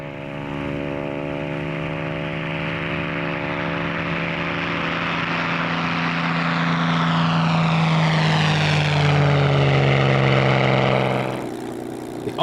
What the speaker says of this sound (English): They both flew the PR Mark 11 Spitfire belonging to Chris Horsley